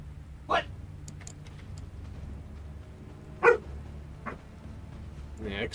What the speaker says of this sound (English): excuse the dog if you hear her barking